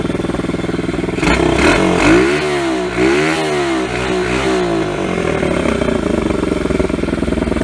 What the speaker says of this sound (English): This bike just humps. It rips.